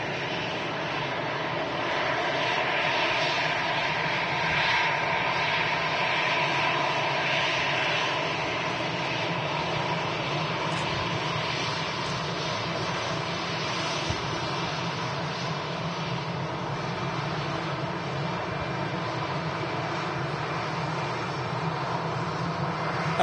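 An aircraft arrives at Manchester Airport, its engines a steady broad roar heard from a distance, holding level throughout.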